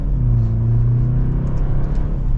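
A 2024 BMW 530i M Sport engine pulls hard in sport mode, a loud, steady low drone that holds and slowly rises under acceleration, heard from inside the cabin with no talking.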